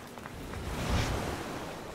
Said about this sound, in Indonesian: Kayak misalnya suara ombak